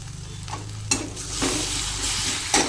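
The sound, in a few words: chopped coriander added to frying soybean curry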